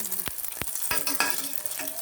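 Cabbage and squash pancake batter sizzles steadily in a hot frying pan, with a few sharp scraping or tapping clicks from a utensil over the constant hiss, close and moderately loud.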